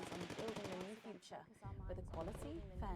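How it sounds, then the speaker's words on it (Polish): Gunfire crackles in rapid bursts outside in the video game Not for Broadcast, mixed under loud talking and a broadcast voice. "O, widać strzały."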